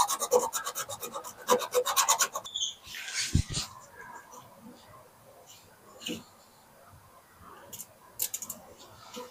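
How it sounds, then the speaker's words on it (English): A tool scratches rusty metal to clean a spot for a good electrical ground, a fast run of close, rasping clicks at first, then scattered scrapes and knocks. "Let's promote some more rust and scratch this up a little bit."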